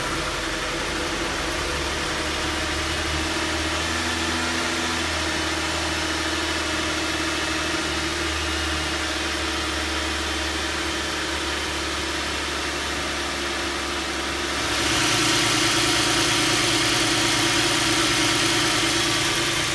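A Chrysler 300 with a 2.7L V6, just repaired for a cylinder misfire by replacing its plenum intake gasket, idles smoothly and close by with a steady low rumble that swells noticeably louder near the end.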